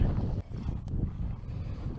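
Wind gusts buffet the microphone in a steady low rumble in a forest, rising and easing briefly, with no other clear sounds.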